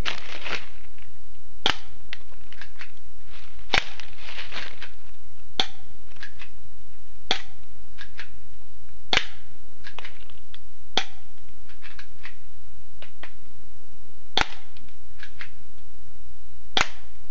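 Sharp, isolated gunshots from a Taurus pistol fired at a can, about a dozen irregularly spaced cracks over quiet background, with no voices.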